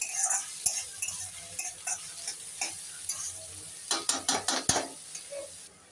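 Vegetables for veg fried rice frying in a pan, with a soft background sizzle broken by sharp metallic scrapes and clinks of a utensil stirring, clustering into a quick run of taps near the end.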